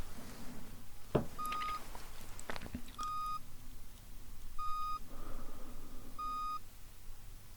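Four short, clear electronic hearing-test beeps sound at steady intervals over a faint background hiss, with a couple of soft knocks early on.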